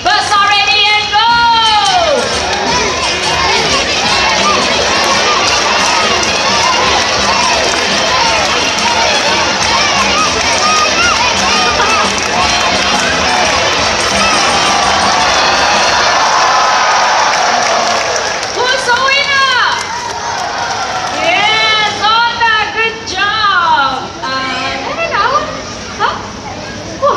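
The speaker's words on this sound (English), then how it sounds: "Now Barry supporters, you have to cheer louder." Children cheering and shouting at a race game in a bird park, a loud, dense crowd roar that runs continuously and breaks into excited whoops and yells near the end, with an announcer's voice mixed in.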